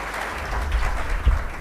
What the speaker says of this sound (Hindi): तो जोरदार ताली से हम अपने मनीष भैया का सम्मान करेंगे।